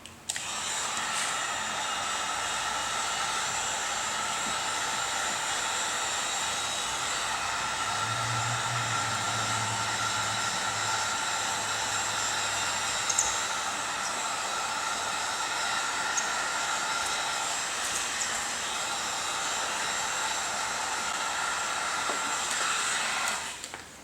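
A heat gun blows steadily for a long stretch as it heats window tint film on a car's rear windshield, giving a loud, even whooshing roar with no talking.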